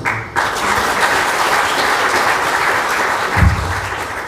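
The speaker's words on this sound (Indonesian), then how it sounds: "Jangan tepuk tangan sama saya, tepuk tangan sama Tuhan. Tepuk tangan yang benar." A church congregation applauds during a sermon, a loud, sustained burst of many hands clapping together that stays strong throughout, with a brief low thump near the end.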